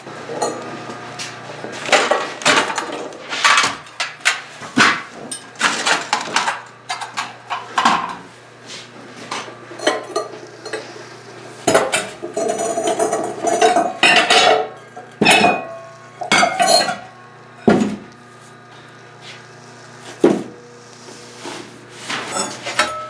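Ceramic mugs and bowls come out of a kiln with dense clinks, knocks and scrapes of pottery against pottery and shelving. The clatter is close and irregular, with short bursts and brief pauses.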